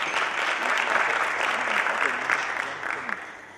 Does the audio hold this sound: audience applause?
yes